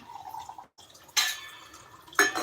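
Two short splashy pours of water, each a quick rush that fades away, with quiet moments around them.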